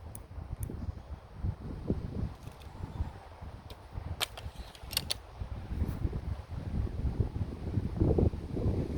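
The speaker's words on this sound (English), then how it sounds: "the wind is giving me a fight, guys, a big fight" Wind buffeting a microphone outdoors while a Crosman F4 pellet rifle scope is being adjusted, a continuous low rumble of gusts with scattered faint clicks and rustles, no talking.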